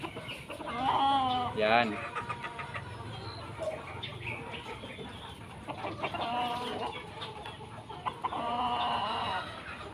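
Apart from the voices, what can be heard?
Sweater gamefowl rooster clucking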